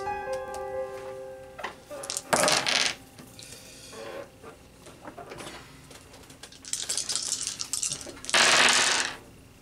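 Four dice are rattled and tossed onto a table during a Betrayal board game, with several bursts of clattering and tumbling and quieter handling clicks in between.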